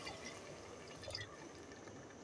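Water pours steadily into a cooking pot while making black chickpeas (kala chana) at home, a continuous soft splashing rush lasting a couple of seconds, fairly quiet and close.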